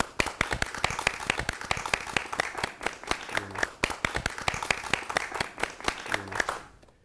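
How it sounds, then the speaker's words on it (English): A small group claps for teachers in a classroom program, distinct individual claps in a brisk irregular patter, moderately near, with a couple of brief low voices, tapering off at the end. "you all deserve a round of applause"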